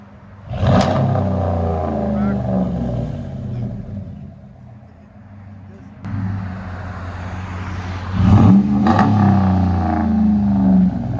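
A 2017 RAM 1500 with a 5.7L HEMI V8 and Black Widow Race Venom exhaust revs in two sharp bursts, each settling into a deep, throaty idle rumble, close and loud with no talking.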